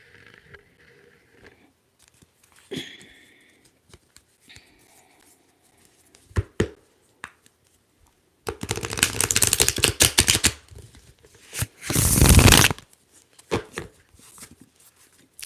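Tarot cards being shuffled: a few soft riffles early on, then a long, loud run of rapid flicking and a second sharp burst, with quiet gaps between.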